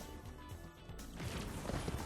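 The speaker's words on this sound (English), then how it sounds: "The explosion's really quite satisfying." Explosion in the fantasy cartoon-style shooter Paladins: Champions of the Realm, a dense crashing burst that thickens and grows louder toward the end, with game sounds layered around it.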